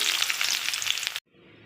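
Black cumin seeds and onion frying in hot mustard oil, a loud bright sizzle close by that cuts off suddenly and leaves a fainter hiss, with no talk.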